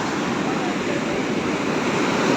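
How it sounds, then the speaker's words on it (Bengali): Ocean waves roar onto the beach at Puri, a dense, continuous, loud wash of surf mixed with wind noise that fills the whole moment without a break. "আর এটা হচ্ছে সমুদ্রের গর্জনটা।"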